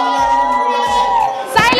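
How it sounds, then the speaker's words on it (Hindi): Schoolchildren shouting together at a school Independence Day celebration on 15 August, a loud crowd of young voices under music, with a sharper burst of shouts near the end. "ये बच्चे इतना ज्यादा शोर क्यों कर रहे हैं?"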